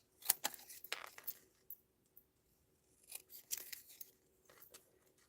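Scissors snip through stamped cardstock at a papercraft desk in a series of quiet, irregular crisp cuts with pauses between them, no talking.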